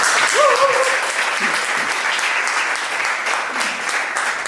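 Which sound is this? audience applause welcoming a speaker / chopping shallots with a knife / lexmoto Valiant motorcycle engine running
audience applause welcoming a speaker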